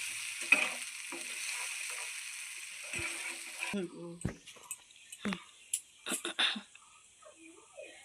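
Nigella seeds frying in oil with salt and turmeric, a steady crackling sizzle for the first few seconds, then quieter with scattered clinks and scraping taps, not loud.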